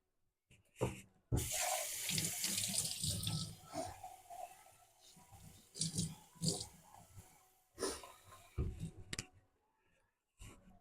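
Tap water runs into an empty can to be added to a cioppino seafood soup, a steady rushing fill broken by short clicks and pauses, close and fairly loud in a home kitchen.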